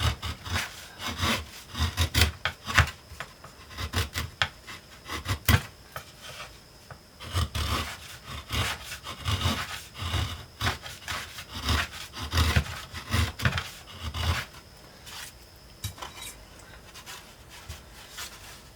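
Hand tool shaving and rasping a wooden guitar top brace during scalloping, continuous rough scraping strokes in uneven bursts, close and fairly loud with no talking.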